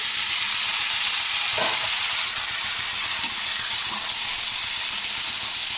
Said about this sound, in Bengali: এবারে আমি সেদ্ধ করে রাখা বরবটিটাকে দিয়ে দিচ্ছি